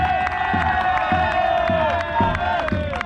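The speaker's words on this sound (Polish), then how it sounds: "Powitajcie wielkimi brawami" Spectators at the Progress Cup youth football final between Jaguar Gdańsk and ŁKS Łódź cheer and clap for the two finalist teams, a loud crowd roar over a steady rhythmic beat of music with shouts and whoops.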